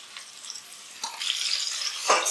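Carrots and beans stir-fried in a pan, a quiet sizzle that swells after a spatula scrape, with a louder scrape of the pan near the end and no speech.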